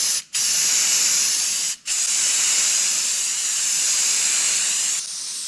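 Aerosol can of orange paint spraying in long, loud continuous hisses, briefly pausing twice early on before a final sustained burst that tapers near the end.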